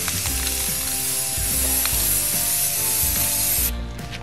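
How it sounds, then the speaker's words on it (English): A spray paint can hisses continuously for several seconds while painting shelves, with faint rattling clicks underneath, before the spray tapers off quietly at the end. "it actually uses a lot of spray paint"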